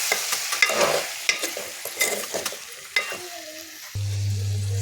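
Tomato pieces fry in hot oil with crackling sizzles and repeated scraping strokes as they are stirred, before a steady low hum takes over near the end.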